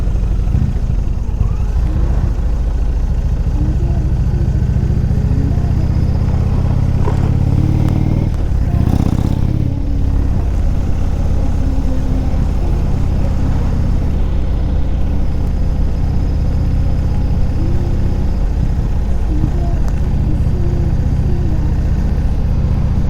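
A 400 kg Indian Roadmaster motorcycle engine rumbles steadily and loudly up close in sub-zero cold, deep low throb throughout, with a brief surge of revving partway through.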